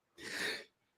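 A single loud sneeze bursts out close by, lasting about half a second, followed by a short breath or murmur at the end.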